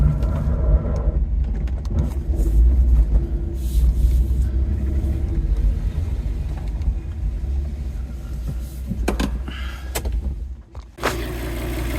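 A Fiat Coupe's engine rumbles steadily as the car is driven in, a loud, continuous low drone with slight variation and a brief dip near the end, and no talking.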